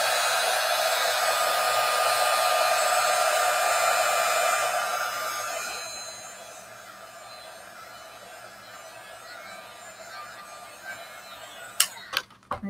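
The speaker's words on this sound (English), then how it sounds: "So let me dry this." A hair dryer blows steadily over a watercolor painting with a loud, even whooshing hiss, then switches off and gives way to quiet room tone and a few small clicks and taps.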